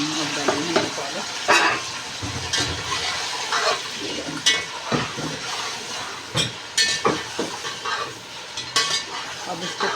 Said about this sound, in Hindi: अब इसको पालक को हम अच्छी तरह भून लेंगे।